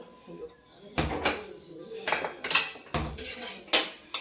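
Dishes and cutlery clatter and scrape in irregular bursts, close by, as rice and mango curry are served, with quiet gaps between the clinks.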